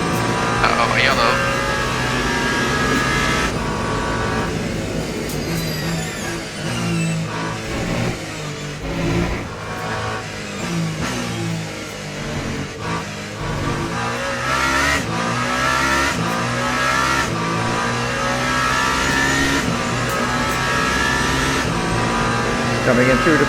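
Race car engines in the Le Mans Ultimate sim racing game at the 24 Hours of Le Mans, loud continuous revving with rising and falling pitch as cars sweep past, under steady race commentary.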